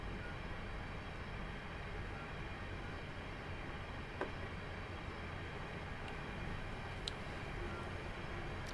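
A Class 465 electric train in Train Sim World runs with a low, steady rumble and faint rolling hum, with a few brief clicks over the drone and no voices.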